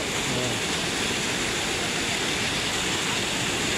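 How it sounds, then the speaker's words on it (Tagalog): Antong Falls waterfall roars as a steady, loud, unbroken wash of broadband noise, continuous and close throughout, with a brief faint voice near the start. "tumatawid sa falls"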